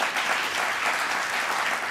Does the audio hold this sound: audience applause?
yes